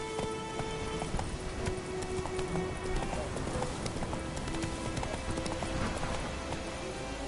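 Roach the horse gallops in The Witcher 3, steady rapid hoofbeats pounding alongside a constant rain-like wash and faint tonal game sounds throughout.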